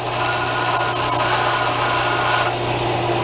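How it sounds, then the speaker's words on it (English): A belt sander softens the edges of a workpiece in a shop with a continuous, loud, gritty whir that drops to a quieter hum near the end. "I'm going to hit this with the belt sander,"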